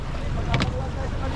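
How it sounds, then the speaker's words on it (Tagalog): Ocean waves break and churn along the coast near the Isabela–Aurora provincial boundary, a steady loud roar buffeted by wind on the microphone, with one brief louder splash in the middle. "Sabog na sabog yung mga alon, no?"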